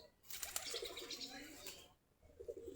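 Giribaz pigeons coo in soft, rolling bursts close by, with a brief flutter of wings and faint chirps, broken by a short quiet gap.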